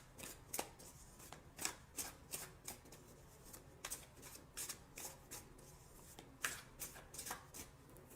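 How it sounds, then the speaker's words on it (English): Tarot cards shuffled and picked out by hand, a quiet close series of rhythmic riffling slaps repeating about every half second, with no talking. "So now I'm going to choose two cards for guidance."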